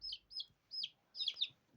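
Soft, close clucks from a young hen in a short series of four or five high, quick calls over a quiet background.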